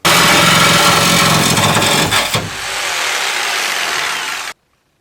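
A power saw cuts a hole through the inside wall of a van being converted, loud and continuous with a rough grinding buzz that eases after a brief pause midway, then stops abruptly.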